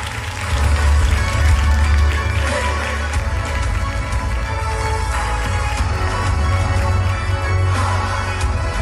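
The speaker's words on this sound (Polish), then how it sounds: "Brawa." Audience applause at a campus political event in Sosnowiec, a steady dense wash of clapping from a crowd that swells early and holds at an even level for several seconds.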